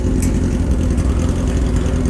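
Suzuki B-King motorcycle fitted with an aftermarket exhaust, running steadily with a deep, continuous engine rumble, loud and close, with no voices over it.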